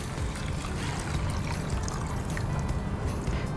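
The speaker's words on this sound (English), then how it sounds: "All right, so add in the water." Water pours steadily into a pot of rice as cooking prep begins, a continuous close trickle and splash with no talk over it.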